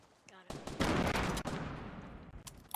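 Gunfire in Fortnite, a dense burst of rapid shots that opens sharply and rolls on as a loud crackling fusillade before fading out over a few seconds.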